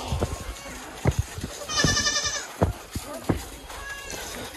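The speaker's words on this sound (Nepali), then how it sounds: "बाख्रा पाठा त टन्ना रहेछ त हौ" Goats and young kids bleat in a mountain village path, one wavering bleat clearly heard with a fainter one later, amid footsteps, knocks and nearby talk.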